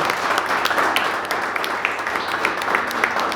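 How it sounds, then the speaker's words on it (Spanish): Steady applause from a church congregation, dense clapping that holds at an even level throughout, with a few faint voices mixed in. "Den ese aplauso a Él."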